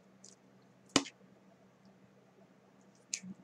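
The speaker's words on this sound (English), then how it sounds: "we're just going to take our scissors and we're going to trim it out" Scissors trim the edge of a duct tape headband craft: two sharp, close snips about two seconds apart, with quiet rustling in between.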